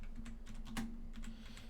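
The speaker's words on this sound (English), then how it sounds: "Because I already started typing." Someone types on a computer keyboard, producing a quick, uneven run of soft clicks and taps close by, with one sharper keystroke partway through and no talking.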